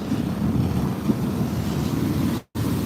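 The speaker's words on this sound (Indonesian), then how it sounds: "Tuh ombaknya besar sekali." Big ocean waves at Muaro Bantiang beach in Tarusan, West Sumatra, a steady loud roar of surf mixed with wind buffeting the microphone, with a brief dropout near the end.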